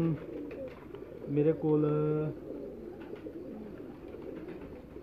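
Domestic pigeons in a large rooftop loft flock coo in a low, steady murmur, with one louder, sustained coo rising close by midway through, while someone talks over them.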